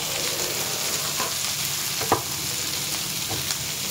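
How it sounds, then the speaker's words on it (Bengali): Onion sizzles steadily in hot mustard oil in a pan, with a constant frying hiss and a few soft scrapes and clicks of a utensil, and no talking. "আর যেটুকু তেল ছিল তার মধ্যে পেঁয়াজ দিয়ে দিচ্ছি।"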